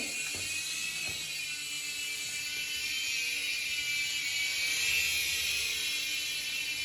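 Steady high-pitched whirring rotor noise of a small remote-control helicopter, loud and close, with a rising airy roar and no talking.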